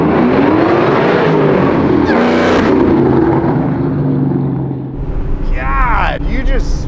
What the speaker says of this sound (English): I can't believe how it's spinning the tires at that pace.